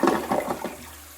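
A brief rush of water from a damaged 2023 Glacier Bay 1.28-gallon toilet flushing, loud at first and quickly fading to a quiet trickle.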